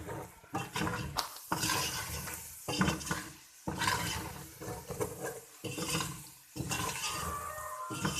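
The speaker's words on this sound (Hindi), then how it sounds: "इसको हम अब अच्छे से मिक्स कर लेंगे" A spoon stirs egg gravy masala in a pan, scraping and clinking in repeated strokes with short pauses, close and moderately loud, alone without talk.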